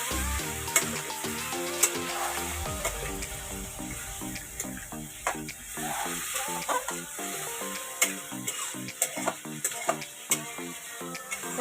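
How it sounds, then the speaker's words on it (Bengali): Fish fat is stirred and fried in hot oil in a pan, giving a steady sizzle with soft scraping and stirring sounds under continuous background music. "মাছের তেলটা ভালো করে নাড়াচাড়া করে ভালো করে ভেজে নিতে হবে।"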